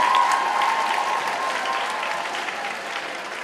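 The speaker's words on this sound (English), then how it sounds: "One more round of applause for Mariska and Julie." An audience at a school talent show claps for two performers, Mariska and Julie, in a loud, dense round of applause that stays steady and fades slightly toward the end.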